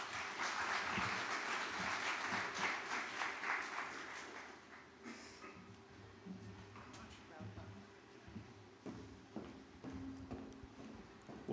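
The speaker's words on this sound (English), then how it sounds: "Please give up a big applause for Kevin Nielsen." Audience applause for a speaker at a tourism resilience conference in Jamaica, a broad clapping wash that is loudest at the start, then thins and fades into room noise and scattered sounds.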